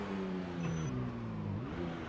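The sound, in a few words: loud car engine reversing without muffler in a video game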